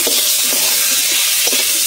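Oil sizzles steadily in a pan as fried potatoes and ginger paste are stirred, a spoon scraping in short, irregular strokes, close and fairly loud, with no talking.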